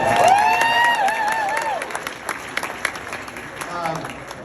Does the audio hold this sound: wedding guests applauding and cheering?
yes